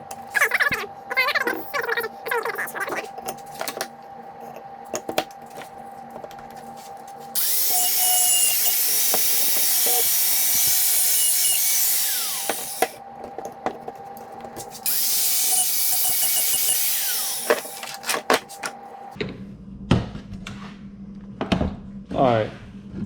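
A power tool trims the edge of an aluminum piece for a dirt bike LED headlight in two long, steady, harsh bursts of cutting or grinding. Short clicks and handling noises come before, between and after them, and someone speaks nearby.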